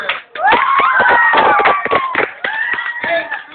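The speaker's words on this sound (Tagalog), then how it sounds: "Palakpakan sa palakpakan." A crowd of schoolchildren claps in scattered, uneven bursts for a quiz winner, with shouting and cheering voices on top throughout.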